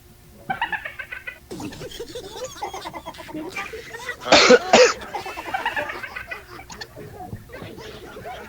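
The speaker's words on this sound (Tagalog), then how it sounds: "Saglit lang, umubo ako eh." A single cough bursts out loudly in the middle of a call-in radio broadcast, with a caller's speech before and after it and a cat-like vocal sound also present.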